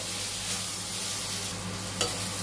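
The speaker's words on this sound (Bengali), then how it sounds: "এরপরে ভাজা চালগুলো দিয়ে দিলাম। দিয়ে ভালো করে মিক্স করে দিচ্ছি মশলার সঙ্গে" A spoon stirs fried rice grains into spices in a pan over low to medium heat, giving a soft continuous sizzle with a couple of faint scraping clicks.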